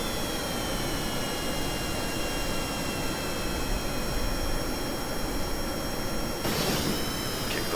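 Jet engine with afterburner lit in a flight video game, a steady loud broadband roar throughout with a whining high tone, and a sharp surge of noise near the end.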